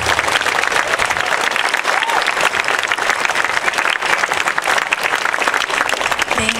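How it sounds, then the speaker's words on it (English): Teachers receive sustained, dense applause from a large audience at a school gathering, loud and continuous throughout. "Let's take a moment to recognize our teachers and give them an applause."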